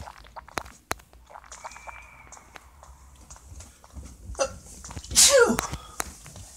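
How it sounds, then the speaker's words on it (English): A single sharp sneeze bursts out near the end, loud and close, after quiet room noise with faint taps. "I had a sneeze."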